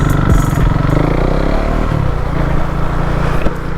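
A KTM Duke 390 single-cylinder motorcycle rides along a road, its engine note loud and close with a steady throbbing drone and a slight rise and dip in revs, heard alone without talk.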